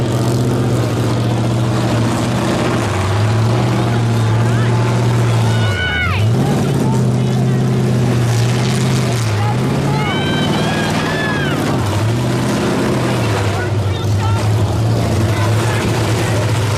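Loud, steady engine roar from buses battling in a short-bus demolition derby, with pitch dips and surges as engines rev and strain, and occasional squealing tones cutting through the drone.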